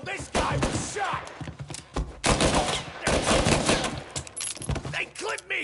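Bursts of rapid gunfire in a video game, loud and close, in repeated volleys with brief gaps, and a voice shouting in between.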